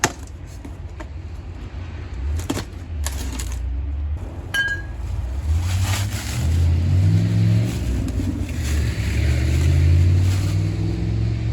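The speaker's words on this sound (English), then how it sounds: "What a horrible exhaust." A Ford Panther-platform car engine revs and rumbles through a loud, raspy exhaust, building in intensity, with a few sharp clicks and clanks early on.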